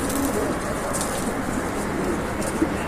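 A racing homing pigeon coos softly amid steady broadband background noise, the calls faint and continuous rather than distinct.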